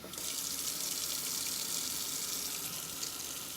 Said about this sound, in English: when you put water in the sink